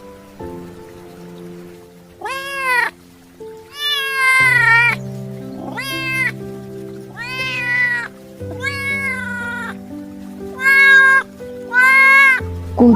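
A cat meows repeatedly behind a window at night, about seven clear, drawn-out cries spaced across the span, while a steady low hum runs underneath.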